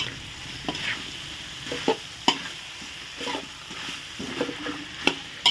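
Thai eggplant being stir-fried in a hot pan with curry paste, a steady sizzle broken by repeated sharp scrapes and clacks of a spatula against the pan, close and without talk.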